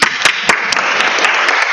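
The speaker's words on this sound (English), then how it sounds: "Everyone clap." A temple congregation claps in a room, with sharp, loud hand claps at first that quickly merge into dense, continuous applause.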